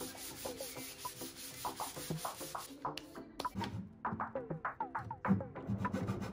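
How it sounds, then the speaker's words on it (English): Sandpaper scuffs an enamel-painted wooden dresser in quick back-and-forth rubbing strokes, close and fairly soft, with a slight pause midway before the strokes resume, heard alone. "I gave it a light scuff with some sandpaper to remove the sheen."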